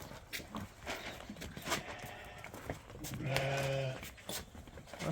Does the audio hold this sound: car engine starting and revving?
no